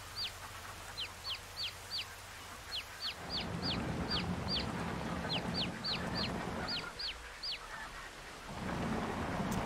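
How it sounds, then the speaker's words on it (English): Steady rain hiss with low rumbling runs throughout a Farming Simulator 22 farm scene, while birds cluck and chirp in a repeated, rhythmic pattern above it. "As you can see, it's raining, so that's nice."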